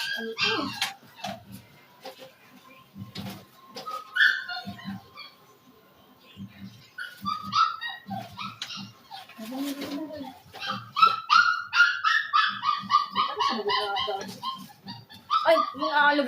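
A small house dog, a white boy, gives scattered yips, whines and short barks up close, some quiet pauses between, while a person talks intermittently nearby.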